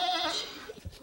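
A fainting goat gives a single short, nasal bleat close by, followed by a few soft thumps and shuffles.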